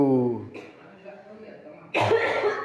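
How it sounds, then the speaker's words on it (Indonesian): A person gives a sharp, close cough near the end, after a brief stretch of voice and quiet. "Dia batuk enggak ya?"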